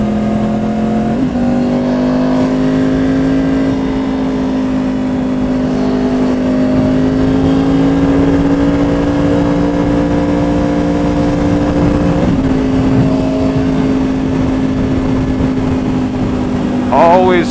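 Road traffic slows and brakes around a moving vehicle, a continuous engine drone with shifting pitch and a sharper burst near the end.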